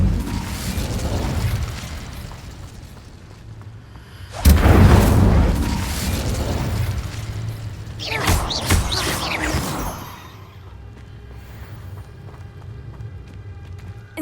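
Incendio fire spell blasts in Hogwarts Legacy: a sudden loud burst with roaring whoosh, then a second flaring surge, over a low game-music and ambient bed.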